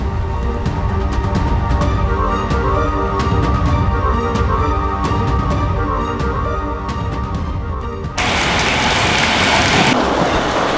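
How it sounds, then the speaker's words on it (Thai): Rain falling heavily in a steady loud wash, with a sudden brighter surge of downpour near the end, no voices. "เดี๋ยวฝนหยุดแล้ว เธอค่อยออกไปก็ได้นะ"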